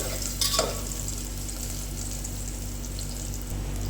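Crushed garlic hits hot oil in a pan with a brief clatter, then a steady close sizzle and soft stirring continue with a constant low hum underneath, no talk.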